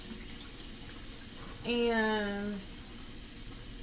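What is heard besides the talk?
tap water running while washing shrimp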